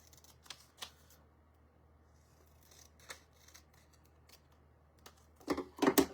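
Scissors snip through a paper sewing pattern to cut out one section, giving sharp, crisp cuts at irregular intervals that end in a louder flurry of rustling snips and paper handling.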